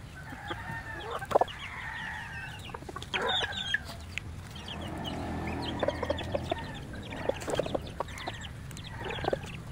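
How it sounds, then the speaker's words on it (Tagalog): Brahma rooster and chickens in a flock, with close, repeated clucks and short calls over a steady low background, along with scattered sharp taps and rustles. "Ito yung amahian ng Brahma."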